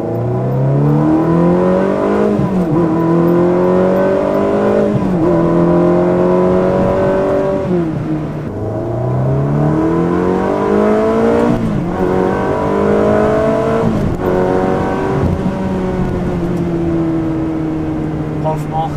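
A Ferrari 360 fitted with a reprogrammed F1 Challenge Stradale gearbox revs and accelerates through several rising gear pulls, each climb broken by a quick shift, loud and close, with people talking excitedly at times.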